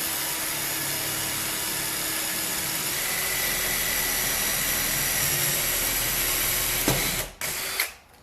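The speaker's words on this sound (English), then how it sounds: "go ahead and drill this pilot hole straight down" A drill runs steadily at high speed for several seconds boring a pilot hole straight down into scrap wood, a continuous whirring drone that cuts off abruptly near the end, followed by faint knocks.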